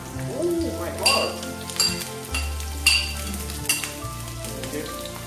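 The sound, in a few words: onions frying in a hot pan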